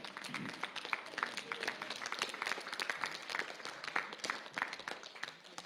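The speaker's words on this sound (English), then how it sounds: "And so let's give Max a good round of applause again." Quiet, distant audience applause at a school sports awards ceremony, a steady patter of many hands that continues without a break for several seconds.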